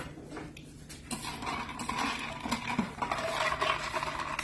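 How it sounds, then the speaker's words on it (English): A spoon clinks and scrapes against a glass as a flavored orange vanilla soda is stirred, giving a quick run of close, light metallic taps and swirls over a quiet room. "Give it a stir"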